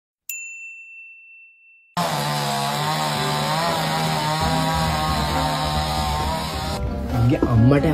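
Chainsaw cutting trees in Sri Lanka, a loud continuous buzzing engine drone running steadily after a brief chime and a short quiet gap, with a faint voice near the end.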